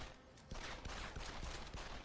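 Gunfire in the video game Deus Ex: Human Revolution comes as rapid, rhythmic bursts of shots. The sound is fairly faint and continuous, with sharp repeated cracks over a dense background.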